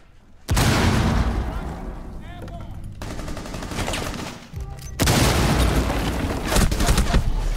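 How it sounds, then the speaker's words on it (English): A grenade blast in the Rainbow Six Siege video game: abrupt loud booming bursts that cut in three times, each followed by dense, sustained rattling gunfire at close range. "Chuck grenade in there."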